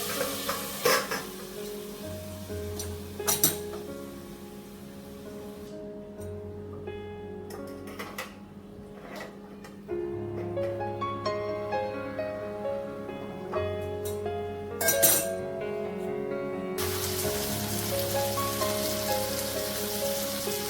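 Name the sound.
ivy gourd (tondli) vegetable cooking in a pan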